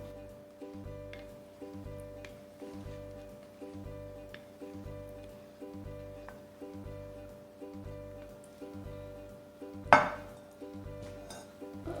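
Spice paste is mixed into potatoes and onions for pakora, giving steady rhythmic wet squelching and scraping in a bowl with one sharp clink near the end, over a faint constant hum.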